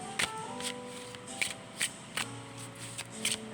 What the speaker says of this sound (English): I shuffled too tight, and these cards are very new